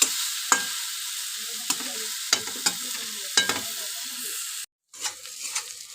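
Grated taro fries in a pan over a low gas flame with a steady, close sizzle, broken by a few sharp stirring scrapes and knocks and a brief silent cut near the end.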